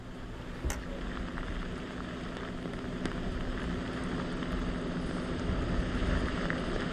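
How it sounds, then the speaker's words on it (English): Rain falls steadily over flooded downtown Houston during Hurricane Harvey, a soft, even hiss of drops with faint wind, lasting throughout with a few brief ticks and no voices. "as you can see, the rain has not let up for days"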